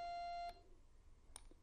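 A small handheld beeper, switched on and its white button pressed, gives one steady electronic tone lasting about half a second, then falls silent apart from faint clicks in a quiet room.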